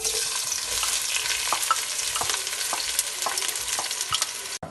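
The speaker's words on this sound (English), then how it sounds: "Now we're gonna add our 3 sliced onions." Three sliced onions fry in butter and oil with bay leaves in a pot for mutton biryani, giving a steady close sizzle broken by regular scraping clicks as they are stirred.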